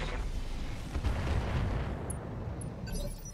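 A mech weapon fires in the modded Roguetech Battletech game, a heavy booming blast with a rumbling low tail followed by fading ambience and small electronic blips.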